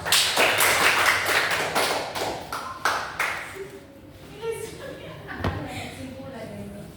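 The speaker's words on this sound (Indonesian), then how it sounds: "Betul, beri aplaus." A classroom bursts into applause during a microteaching practice lesson, a dense run of many hands clapping together for about three seconds before thinning into scattered claps and faint murmuring.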